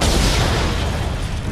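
A grenade blast in the shooter game Homefront The Revolution, a loud, sustained broadband roar of explosion and debris rumbling through the whole moment.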